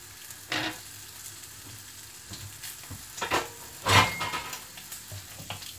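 Bacon frying in a pan, a soft continuous sizzle with several louder bursts of crackle and movement, close by and moderately loud, with no talking.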